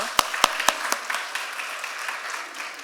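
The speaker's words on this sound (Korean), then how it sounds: "우리 박수로 우리 환영하도록 하겠습니다" A church congregation at a Korean Sunday service claps in welcome: a few sharp, close claps at the start, then the applause thins out and fades to scattered pats.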